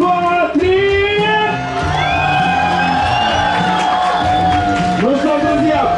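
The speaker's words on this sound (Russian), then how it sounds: "Полные, не смолкая аплодисменты" Crowd shouting and whooping at a moto-rock festival in an indoor sports arena, loud sustained vocal cheers with rising and falling pitches that carry on throughout.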